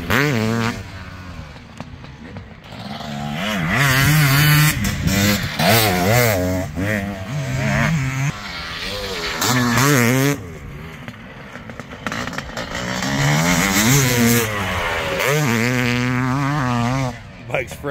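A 500cc dirt bike engine revs repeatedly, its pitch rising and falling in loud, continuous bursts through the whole stretch, close by and unaccompanied by talk.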